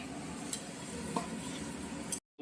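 Soya chunks cooking in mutton fat give a steady, close sizzle as water goes into the hot pan, with a few sharp clinks. The sound holds even, then cuts off abruptly near the end, and no one speaks.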